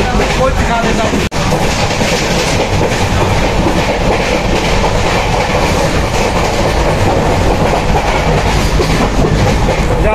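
The Kochuveli Express runs on rails between Udupi in Karnataka and Kochuveli in Kerala, a loud, close, continuous rumble of wheels with clickety-clack over the track joints.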